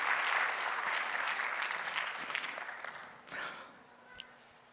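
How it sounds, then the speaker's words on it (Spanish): A church congregation claps loudly and steadily in applause that slowly thins out, with a few scattered claps near the end and no talking. "Denle un fuerte aplauso al Señor"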